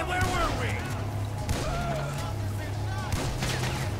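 Shotgun blasts in the game GTA 5, several sharp bursts at irregular intervals over steady engine-like droning and background game sounds.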